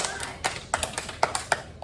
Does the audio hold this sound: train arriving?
no